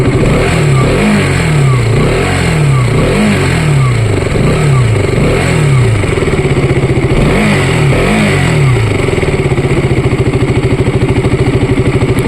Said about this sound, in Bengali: তো বাইকের সাউন্ডটা একটু শুনিয়ে দিই আমি